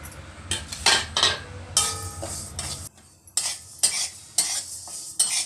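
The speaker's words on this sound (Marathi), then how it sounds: "आता ही अशा पद्धतीनं मुगाची डाळ भाजली" Moong dal is roasted dry in a pan and stirred with a metal spoon, giving irregular bursts of scraping, rattling and light clinks with brief pauses, close by and without talk.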